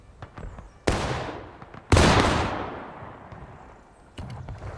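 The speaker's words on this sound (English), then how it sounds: "there's a lot of fire you can hear coming off from the right." Musket gunfire in the Civil War video game War of Rights: two loud close shots a second apart, each trailing into a long echoing rumble, with sparser distant pops and crackles around them and no talking.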